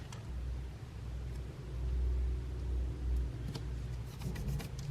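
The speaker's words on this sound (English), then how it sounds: "wanted to show off their new car or something." A loud car roars past nearby, its deep engine rumble swelling and fading over several seconds, with no voices.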